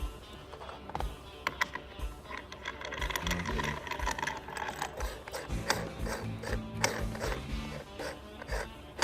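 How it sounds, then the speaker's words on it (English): Cage nut being tightened onto a jack bolt on a drive assembly, with rapid ratcheting clicks and mechanical clatter, close and continuous. "Just hand tighten the cage nut onto the jack bolt"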